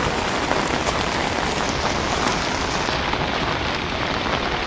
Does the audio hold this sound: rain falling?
yes